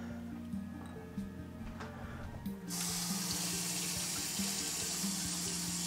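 Tap water runs into a kitchen sink as a tea trivet is rinsed, a steady close splashing flow that grows fuller partway through, with faint ticking underneath.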